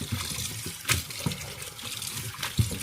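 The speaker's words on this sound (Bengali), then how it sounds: "এখন এই যে ধুয়ে ফেলছি।" Tender young plant shoots are rinsed in water, with soft splashing and trickling plus a few sharper sloshes in a quiet kitchen, close by and with no talking.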